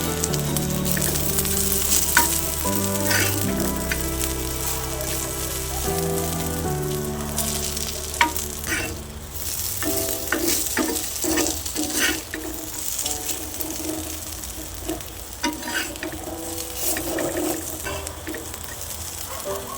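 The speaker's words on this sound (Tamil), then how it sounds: "எண்ணெய் கொஞ்சம் அப்படியே ஊற்றி விட்டுருங்க இப்போ நல்லா ஃப்ரை ஆகட்டும் இப்போ திருப்பி போடலாம்" Sliced elephant foot yam fries in oil in a pan, with a steady, dense sizzle throughout and occasional clatters and scrapes as the slices are turned.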